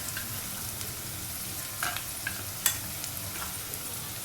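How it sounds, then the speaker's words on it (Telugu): Ginger garlic paste sizzling in a pan with fried onions for an egg and onion pulusu, a soft steady hiss with occasional crackles and a few light clinks of a stirring spoon, no talking. "ఇప్పుడు దీంట్లోకి మనము తీసుకున్న అల్లం వెల్లిపాయ పేస్ట్ 1 చెంచా వేసుకోవాలి."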